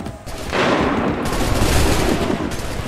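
Musket volley in Assassin's Creed III: a sudden loud burst of massed gunfire erupts half a second in and rolls on as a dense, sustained crackle with no voices.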